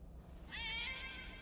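A cat gives one soft, high, drawn-out meow over a quiet background hum, brief and somewhat distant.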